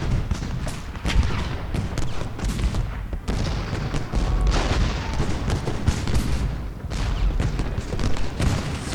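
Cannon and musket fire from the Ultimate General: Gettysburg battle game, a dense, continuous barrage of booming artillery and crackling volleys with no pauses, loud and steady throughout.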